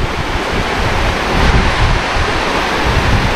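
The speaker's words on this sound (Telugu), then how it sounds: "And that's the water fall bro." Rushing waterfall on a trek to Kalavantin Durg in Maharashtra, a steady, dense broadband roar of falling water with no gaps, loud and close, with no talking over it.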